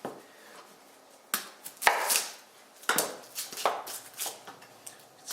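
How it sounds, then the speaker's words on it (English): Sharp knife chopping shallots on a cutting board, a run of crisp, close cuts in an irregular rhythm with no talking. "See how a sharp knife comes in handy."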